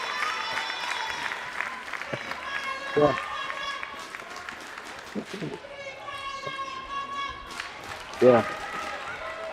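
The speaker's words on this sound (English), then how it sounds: "As you can hear, the crowd's getting very, very loud." A crowd at a table tennis tournament grows noisy with scattered cheers, claps and excited shouts, close and lively, while people talk over it.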